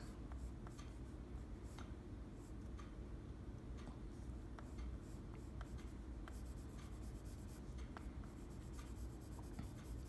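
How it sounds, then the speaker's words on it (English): Colored pencil sketching a dog's head in profile on paper, heard as steady, close scratchy strokes and rubbing that continue without pause, with light ticking taps of the pencil scattered throughout. "let's just start adding, you know, more pressure with our colored pencil"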